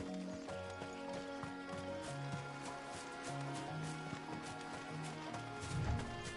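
A horse mount from Final Fantasy XVI runs in steady, rhythmic clip-clop hoofbeats, close and moderately loud, alongside soft game ambience.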